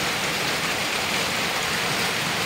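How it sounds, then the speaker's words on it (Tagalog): Heavy rain pours down in a steady, loud, unbroken hiss, with no voices. "Lakas ng ulan, grabe."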